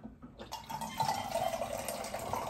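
Hot water pours from a Brio water dispenser into a container, a steady splashing stream that starts after a brief quiet moment and continues at a close, even level.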